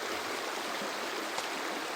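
A stream of water flows steadily along a moorland hiking trail, a broad continuous rushing wash heard up close with no pauses.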